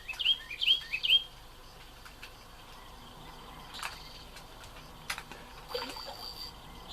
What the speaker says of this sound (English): Fuck off, bird.